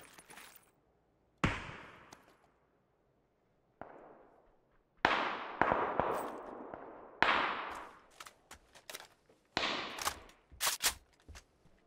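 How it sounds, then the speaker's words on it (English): Several sharp gunshots in the video game PUBG crack out, single and in quick bursts, some near and loud, others echoing farther off from a hill, with quiet gaps between. "No idea where these gunshots are."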